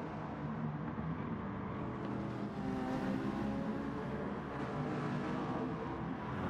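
Ferrari and Aston Martin race car engines in a racing video game, a faint steady drone of several engines with gentle rising and falling pitch, no voices.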